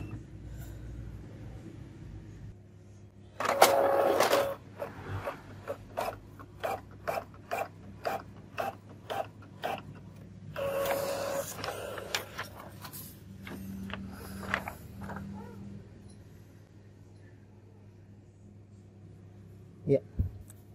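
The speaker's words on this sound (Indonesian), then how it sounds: "Coba sekarang kita tes ya, tes print." An Epson L3110 inkjet printer prints a test page with rhythmic mechanical clicks and ratcheting feed sounds and two longer whirring bursts, all fairly quiet, ending with a final sharp click.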